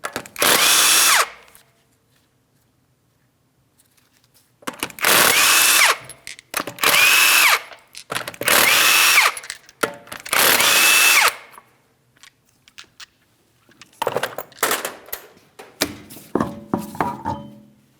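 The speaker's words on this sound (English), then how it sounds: "you're going to remove all 5 of your 19mm lug nuts and then the wheel." A power tool spins off the 19mm lug nuts from a Chevrolet Malibu front wheel, giving five loud, close whirring bursts separated by silences, then a rougher final stretch.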